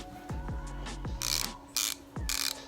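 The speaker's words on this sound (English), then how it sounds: "Right off the bat, if you listen to it, that's the Snap-on." Snap-on 90-tooth ratchet being worked in short bursts, giving several crisp, close, rapid clicking runs separated by brief pauses, with metallic impacts between them and no voices.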